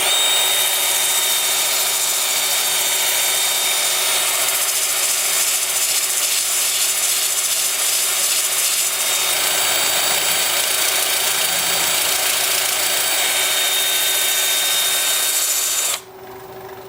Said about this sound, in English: with the lathe spinning in reverse at about 400